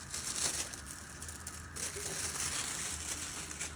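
A plastic bag handled while packing beef tenderloin fillets, a soft continuous crinkling and rustling close by, with a few sharper crackles.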